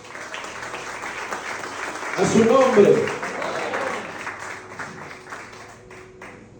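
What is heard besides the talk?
church congregation applauding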